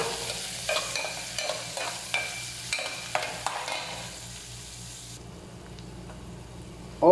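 Onions frying in a pan for a papaya dish, stirred with several scraping strokes over a soft sizzle that fades to a quieter, steady fry near the end.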